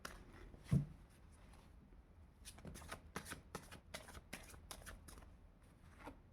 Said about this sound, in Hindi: दो दो कार्ड गिर रहे